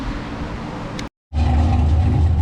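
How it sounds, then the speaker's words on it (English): A tuned car idles close by after a test drive, a steady low engine rumble broken by a short silent gap before the throbbing resumes louder. "he just pulled back up"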